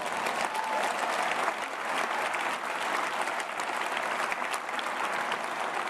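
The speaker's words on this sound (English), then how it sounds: "That deserves a big round of applause." An audience at a political speech on the NHS in Manchester applauds continuously, a dense, even wash of clapping from many hands lasting the whole stretch, with no voices on top.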